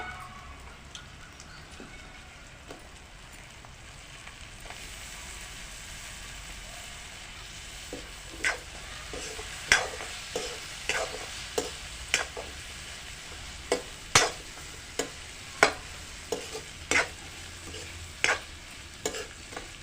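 Eggplant pieces stirred into a curry in a frying pan, with steady sizzling throughout and, in the second half, a run of sharp, distinct scraping and clacking strokes as the spoon works through the pan, close and fairly loud, with no talk.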